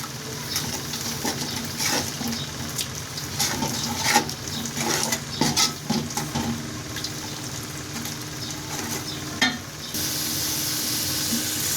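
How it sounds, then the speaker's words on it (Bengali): Ginger-garlic paste with chili powder and salt fries and is stirred in a pan for a lentil dal with drumsticks: steady close sizzling with repeated scraping stir strokes and occasional clinks, no talking. "এখন মশলাটা ভালো করে কষিয়ে নেব।"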